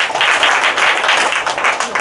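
A middle school class claps enthusiastically for a student, a brief, loud wash of many hands clapping together in a classroom.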